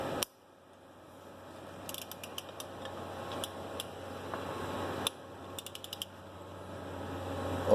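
A socket wrench fitted with an extension torques a bolt, alongside a shop rotor holder wrench, giving two short bursts of quick ratchet clicks over a low steady workshop hum.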